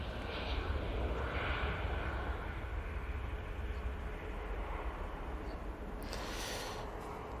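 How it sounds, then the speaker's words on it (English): A Ryanair jet departs Manchester Airport for Cologne, a faint, distant broadband jet roar that stays constant and washes through the whole stretch without a clear peak. "There goes the Ryanair off to Cologne."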